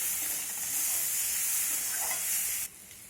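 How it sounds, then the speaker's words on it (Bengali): Potatoes and fried bitter gourd stir-fry in a hot pan, a loud, continuous close sizzle and hiss that drops off sharply near the end, with no voices. "এখন আমি এর মধ্যে দিয়ে দেবো ভেজে রাখা করলা। সব কিছু আমি একসঙ্গে এবার কষাতে থাকবো।"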